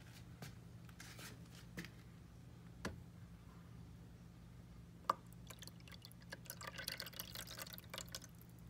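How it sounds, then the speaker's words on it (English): Water is poured into an AeroGarden indoor hydroponic planter. Faint drips and scattered clicks lead into a soft, uneven trickle near the end, all quiet and close. "So I'm gonna put more water in there."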